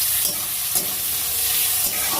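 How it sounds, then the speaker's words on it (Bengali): Onions fry in hot oil in a pan, a loud, steady hiss close by, broken by a few brief stirring scrapes. "পেঁয়াজটা ভাজি ভালো করে।"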